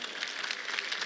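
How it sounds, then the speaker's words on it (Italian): A crowd at a political rally in Messina applauds Matilde Siracusano, a brief, dense wash of clapping at moderate distance with no clear gaps. "Facciamo un grande applauso all'onorevole"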